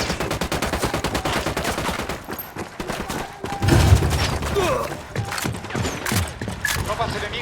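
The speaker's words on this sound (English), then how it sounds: "Opening fire." Gunfire in the video game Ghost Recon Wildlands, a dense stream of rapid automatic shots and fusillades with heavy thumps from a firefight against a drug cartel, steady and loud throughout, with occasional voices beneath.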